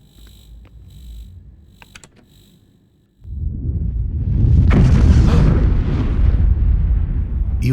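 A loud, thunderous explosion from the game Three Minutes To Eight erupts suddenly after a quiet stretch and rolls on as a heavy, sustained rumble that fills the rest of the moment.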